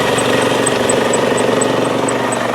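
A 2005 Chrysler PT Cruiser SE engine idles steadily up close, a smooth even hum with a faint repeating tick, loud and continuous with no talking.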